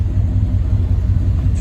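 Steady low idle of a pickup truck engine close by, running evenly throughout with only a slight flicker near the end, the truck parked alongside a Forest River Salem 22 RVS travel trailer.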